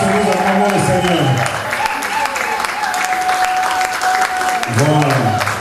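Congregation applauding at a Paris gospel tribute event in a hall: loud, sustained clapping from a crowd, with voices and music-like tones sounding over it the whole time.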